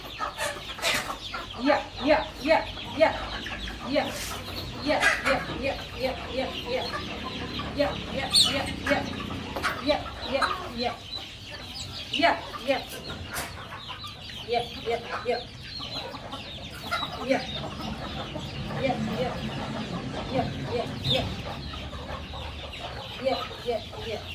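Gavran (desi) chickens cluck steadily and busily while pecking at scattered feed on a poultry farm, a dense close chorus of short calls and occasional squawks running throughout with a faint voice in the background.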